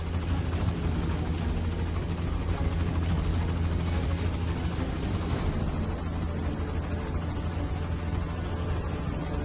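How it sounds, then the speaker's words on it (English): Helicopter in The Amazing Spider-Man video game, its rotor drone and engine hum steady and loud throughout with no talk over it. "Including hitching a ride here on a helicopter like we're doing here."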